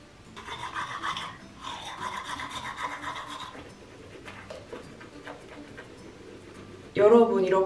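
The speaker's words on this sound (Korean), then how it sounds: "이렇게 양치까지 다 해주고 왔고요" A toothbrush scrubs teeth in a Busan hotel, rhythmic rasping strokes in short bursts, fairly close, followed by a brief louder scratchy burst near the end.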